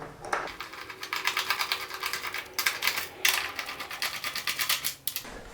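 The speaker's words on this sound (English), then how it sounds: "you can go ahead and remove the four fasteners holding the fender assembly on" Fender fasteners come off a Honda CBR 600RR motorcycle, close-up rapid ratcheting clicks in quick bursts with short pauses between them, no voices.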